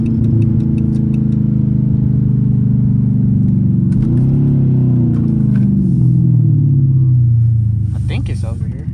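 Straight-piped Dodge Charger RT driving at night, its exhaust a loud, steady low rumble that swells and shifts pitch midway, with faint ticking clicks above.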